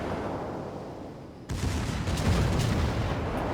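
A naval gun shell striking a warship's citadel in World of Warships, a sudden heavy impact that bursts out of a steady rumbling background and rolls on as a loud, dense roar.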